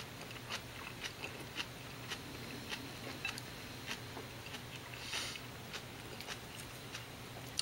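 Someone eats a yakisoba bento, soft close chewing and small wet bites repeating in an irregular rhythm against a quiet room hum, faint and without talk.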